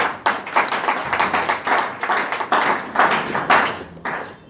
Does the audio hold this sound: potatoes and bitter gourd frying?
no